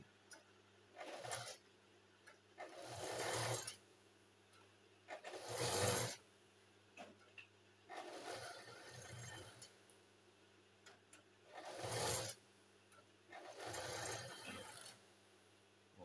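An overdeck coverstitch sewing machine hems a pair of trousers, running in repeated bursts of rattling mechanical stitching separated by short quiet pauses, close up and alone.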